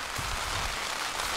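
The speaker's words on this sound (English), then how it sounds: "Rain is coming in at force," Heavy rain falling on a tarp makes a dense, steady patter and hiss close by, with low thumps of water striking the sheet, brief and without speech.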